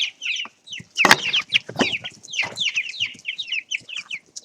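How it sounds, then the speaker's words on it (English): Young chickens cluck and peep in a busy cluster while scrambling over live crickets, rapid overlapping high chirps close by, with a couple of sharp scuffling knocks and wing flutters among them. "And so the chickens really go local over live insects now."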